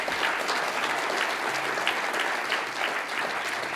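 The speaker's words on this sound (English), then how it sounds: "Can I have another round of applause for Ben?" A live audience gives a sustained round of applause, many hands clapping densely and evenly at a strong level for several seconds without a break.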